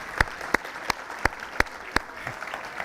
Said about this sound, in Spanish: denle un aplauso al Señor si tiene ganas